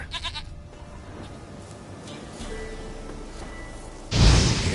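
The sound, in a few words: goat bleating in Witcher 3 video game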